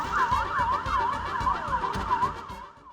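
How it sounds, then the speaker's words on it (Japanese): A fire engine siren wails in a fast repeating up-and-down yelp on a city street in Korea, fairly close and loud, with traffic rumble underneath and no speech. "えらい消防車。"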